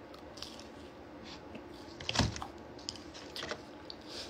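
Soft, close chewing and crunching on fried sweet potato tempura during a spicy food session, faint moist bites with one louder crunch midway, no talking.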